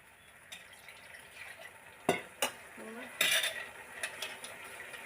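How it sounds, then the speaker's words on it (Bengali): A spoon clinks and scrapes in a pan as poured black cumin paste, garlic paste and chili paste are stirred, with a few sharp metallic knocks over a faint, low sizzle. "ঢেলে দিয়ে ভালো করে একটু নেড়ে দেবো।"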